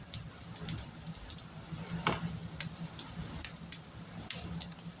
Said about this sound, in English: I'm going to get this last one right here in the skillet, and that's all I got room for in that frying pan